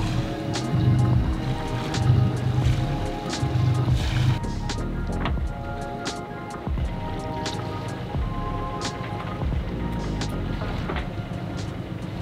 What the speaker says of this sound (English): So we've been on the engine all night